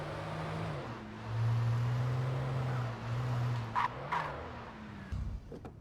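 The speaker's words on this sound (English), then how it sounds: "Dude, you don't have to close the door." A car idles in the video game Alan Wake with a steady low engine hum, then a single dull thud of the car door closing near the end.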